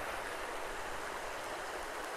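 The shallow Chattooga River flows past in a steady, broad wash of rushing water, constant and fairly close, with no voices.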